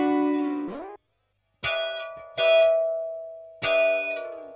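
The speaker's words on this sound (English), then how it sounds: "So you can hear a reverb is a lot higher pitched now" Distorted guitar-like chords run through the PSP PianoVerb plugin with its reverb transposed up in pitch, three loud struck chords with bright shimmering tails separated by short gaps, after a falling note that cuts to silence.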